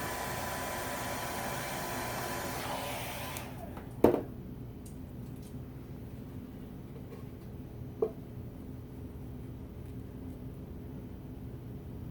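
A hair dryer blows steadily on a craft piece for about three and a half seconds, a loud broadband rush that cuts off abruptly, followed by quiet room tone with a couple of small sharp knocks.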